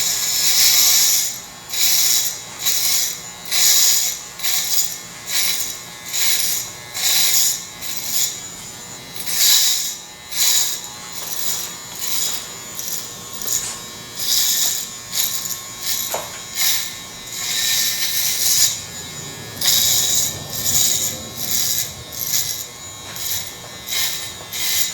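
Electric hair clippers with a half-inch guard cut hair in a barber cut, giving a close, buzzing hum with repeated rhythmic swishing strokes roughly every second as they pass through the hair, with no talk.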